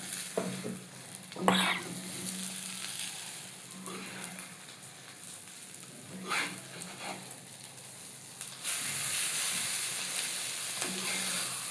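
A masala omelette with onions fries on low flame in a pan, giving a soft, steady sizzle broken by a few sharper clinks and scrapes of a spatula, with the hiss growing louder near the end.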